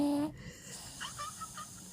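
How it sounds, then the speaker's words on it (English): A pug and Cavalier mix dog snoring softly nearby, with faint wheezy, hissing breaths after a brief tone at the start. "He's not dead, he's snoring."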